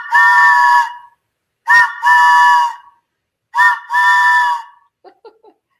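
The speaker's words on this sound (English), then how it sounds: "Mickey and Minnie's Runaway Railway train whistle here" Steam-style train whistle at Mickey and Minnie's Runaway Railway sounds three loud blasts, each a short toot followed by a longer sustained tone, with a few faint clicks trailing after.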